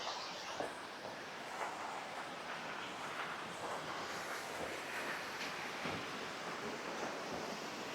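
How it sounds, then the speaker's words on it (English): Glenashdale Falls on the Isle of Arran, Scotland, a steady broadband rush of falling water heard from a distance along a wooded track, with some wind buffeting the microphone and no talking. "Bit of a waterfall"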